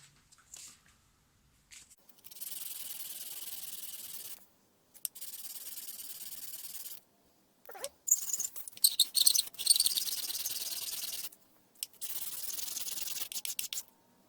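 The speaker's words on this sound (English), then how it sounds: "I'm going to keep going with the sandpaper a bit longer." Sandpaper rubbed over a surface during a tap installation, in several bursts of soft, hissy scratching separated by short pauses, close and fairly quiet with no talking.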